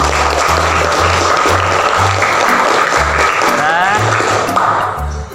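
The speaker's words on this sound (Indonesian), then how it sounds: "Tepuk tangan dulu" Elementary schoolchildren clapping their hands in a classroom, loud patterned claps and thuds in short rhythmic groups, mixed with children's voices calling out throughout.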